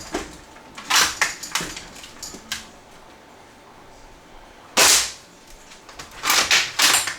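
Bursts of rapid, sharp toy blaster fire in dynamic gunfire mode: a few short volleys, a quiet pause, then louder clustered shots near the end.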